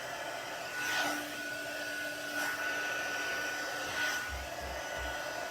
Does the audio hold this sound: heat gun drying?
yes